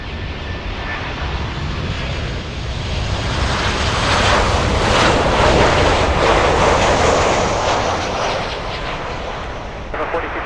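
An A321 airliner lands on runway 12 at Miami International Airport, a loud jet roar swelling as it passes close by and then fading, with wind noise on the microphone.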